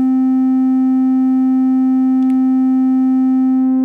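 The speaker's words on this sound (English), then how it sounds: "let's have a listen at first to the source section here, the oscillator section basically, which in a dry state sounds like this" Dry oscillator tone from the source section of a Korg Volca Modular west-coast synth: a steady, loud sustained pitch with rich harmonics, droning unchanged throughout with a faint brief click near the middle.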